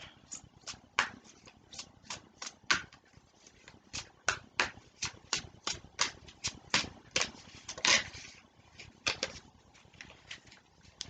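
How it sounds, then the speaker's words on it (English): Oracle cards are drawn and handled one after another in a steady run of crisp, close slaps and shuffles that keeps going for about ten seconds, with no talk over it. "And I'm going to draw about 10 cards."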